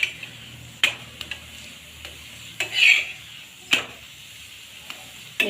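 Tandalja leaf thepla roasts on a hot griddle with a steady soft sizzle, broken by occasional close clinks and scrapes of a utensil turning the flatbread.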